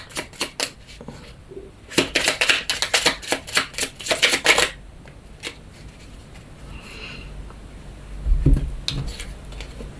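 Oracle cards shuffled by hand: a fast burst of crisp riffling flicks near the mic, then a few soft slides and taps of the cards, with quiet pauses between.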